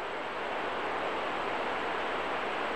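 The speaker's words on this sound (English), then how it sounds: "the water wandering over the rocks, making that rippling sound." Water in a stream at Raymore Park on Toronto's Humber River rippling over rocks, making a steady, dense rushing hiss with no breaks, close and continuous for a few seconds.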